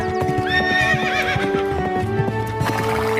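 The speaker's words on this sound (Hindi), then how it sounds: "दूसरे दिन सुबह ही शुक्ला जी एक शानदार अरबी घोड़ा किराए पर ले आए।" A grand Arabian horse hired for riding clip-clops steadily nearby and lets out a loud, wavering neigh, hoofbeats continuing through the call.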